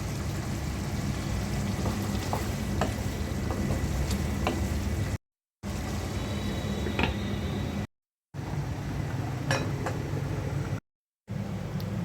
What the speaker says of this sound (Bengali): মাংসের মধ্যে দিয়ে দিচ্ছি আমার ছাদ বাগানের কাঁচামরিচ